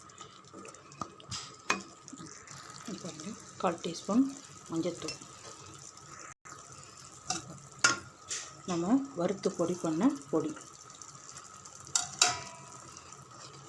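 A spoon scrapes and clinks as turmeric masala is stirred and sautéed in a pan, with intermittent sizzling and rhythmic clatter beneath someone speaking Tamil.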